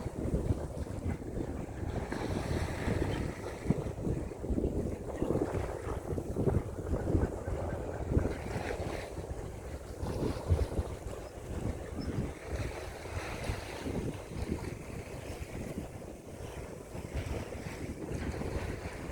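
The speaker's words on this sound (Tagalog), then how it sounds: "Mahangin pa rin." Gusty wind buffets the microphone outdoors in a steady rumbling roar, with water lapping in the background.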